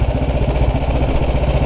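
A 1929 Ariel motorcycle with a grease-filled Burman gearbox, its engine running with a close, loud, steady chugging beat of even low pulses throughout.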